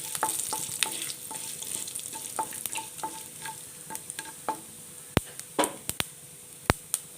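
Split urad dal and curry leaves sizzle in hot oil with a steady crackling fry, a spoon stirring and scraping the pan at intervals, followed by several sharp, close metallic clinks near the end.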